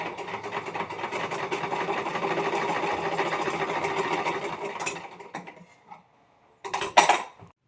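Sewing machine stitching a seam on trousers being taken in at the waist: a steady fast mechanical rattle runs for about five seconds, slows and stops, then a short burst of stitching follows after a pause.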